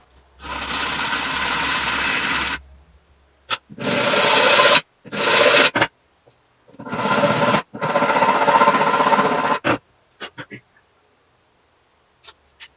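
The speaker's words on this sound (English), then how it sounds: "your hands get very dirty when you're sanding carbon fiber" Hand sanding of carbon fiber scratches in several loud, rough bursts of back-and-forth rubbing with short pauses, then a few light taps and near silence.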